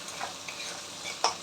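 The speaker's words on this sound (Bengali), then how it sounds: "দিয়ে একটু ভালো করে নাড়াচাড়া করব।" Garlic and spring onion whites fry in a pan while being stirred, a soft, close sizzle with brief scraping strokes from the spoon.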